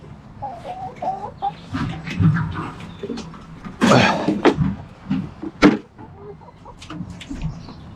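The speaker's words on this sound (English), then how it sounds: "When the chickens see I have a box like this, they get extra excited." Excited chickens in a yard clucking in repeated close bursts, with one louder flurry of squawks midway, over low background noise.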